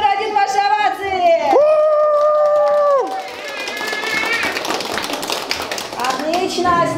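Audience at a New Year corporate party cheering for Snow Maiden number one: loud whoops and sung voices give way to a burst of applause and crowd noise, then voices rise again.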